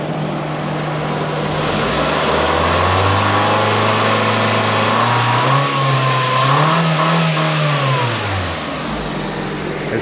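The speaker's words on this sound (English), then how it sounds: "Give it a little bit of rev" A Honda Civic engine is revved while checking an air conditioner fix, a loud close running engine rising and falling in pitch over a steady hum across two rev swells.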